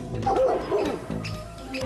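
Dogs bark and yip in quick, overlapping bursts, fairly close and loud, with a whimpering edge between barks.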